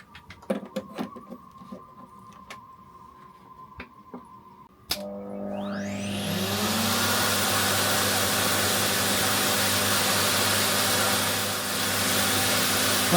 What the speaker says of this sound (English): this is a Henry vacuum cleaner, which is not purely resistive. This is an inductive load.